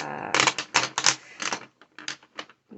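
Rapid clicking and clattering of Brutfuner Macaron colored pencils knocking together, in irregular bursts with brief pauses, close and fairly crisp.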